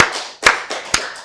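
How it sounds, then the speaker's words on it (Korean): A church congregation at a Wednesday worship service claps a few times, with sharp loud claps at uneven intervals over a reverberant room. "우리 박수를 하나님께 영광 드리겠습니다"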